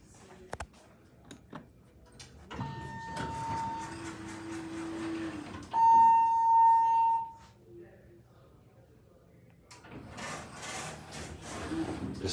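A modernized 1980s Anderson/ThyssenKrupp elevator at Brown Hall, Lake Forest College, running with a low mechanical hum, a steady mid tone, then a loud chime-like buzz near the middle, followed by doors and motion noise, with faint voices present.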